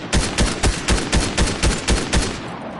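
Rapid burst of about nine evenly spaced gunshots in a video game arena match, loud and close, firing in a steady rhythm before stopping abruptly.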